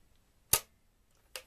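Spring-powered mechanism of a Nerf Super Soaker Flash Blast pistol firing, two short sharp snaps roughly a second apart, close and crisp against near silence.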